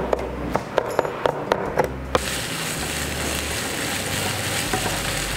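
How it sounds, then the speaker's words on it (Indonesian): A knife chops fried tempe for nasi bakar sambal tempe, with about seven sharp, close, irregular knocks over two seconds. A steady broadband hiss like frying fills the rest. "kita akan cincang tempe gorengnya ini"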